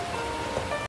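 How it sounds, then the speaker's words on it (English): A rain animation in a video game gives a steady, even hiss of rainfall on surfaces, continuous for under a second before cutting off abruptly. "I think it's something to do with, like, the rain animation."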